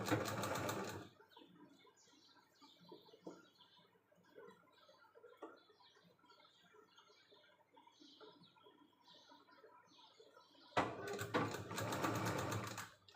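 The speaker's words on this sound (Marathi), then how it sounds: "हे फोल्ड करायचं आतल्या बाजूला आणि याच्यावरून टिप मारायची" A sewing machine topstitches the folded-in edge of a net blouse, with loud bursts of fast, steady whirring at the start and end and quiet handling of fabric between them, with no talk.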